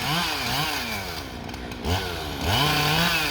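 A chainsaw cuts through white oak in the woods, a loud, close snarling motor whose pitch dips under load and climbs again as it revs through the cut.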